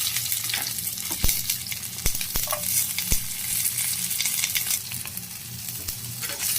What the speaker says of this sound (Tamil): சின்ன வெங்காயம் நல்லா வதக்கலாம்.